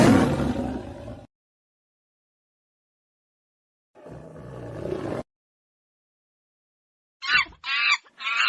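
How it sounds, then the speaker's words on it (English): A tiger roars in harsh, rumbling bursts: one, then another after a long silence, then a quick series of shorter growls. "Tiger."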